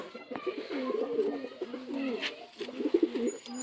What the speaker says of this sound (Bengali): একটা মাদ্রাসি কবুতর আছে, কবুতরের আইস কোয়ালিটি চেক করুন।